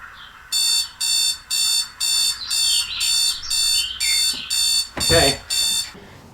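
Electronic alarm ringing on a film set, a loud repeating beeping pattern of about ten evenly spaced bursts, with birdsong and a short voice mixed in beneath it.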